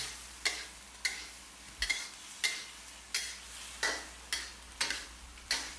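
A spatula scrapes and tosses chicken liver with holy basil leaves in a hot pan in a steady rhythm, roughly every half second, over a soft continuous sizzle.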